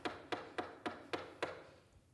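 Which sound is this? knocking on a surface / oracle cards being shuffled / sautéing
knocking on a surface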